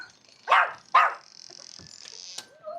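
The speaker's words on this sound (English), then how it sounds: "Yes, the puppies." Puppies barking close by, two loud sharp barks followed by softer whines and yips.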